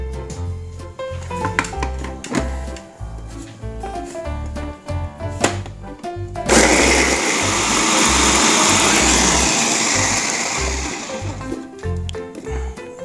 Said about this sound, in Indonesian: Oke, ini kita blender sampai halus seperti ini ya.